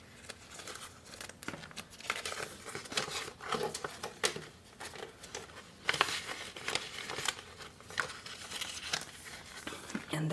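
Cash bills handled and slipped into a paper spending envelope, soft crinkling and rustling of paper close by under a person talking throughout.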